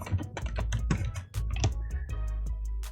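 Rapid keystrokes rattle across a computer keyboard while text is entered in a design program, a close, steady burst of clicks with no talking.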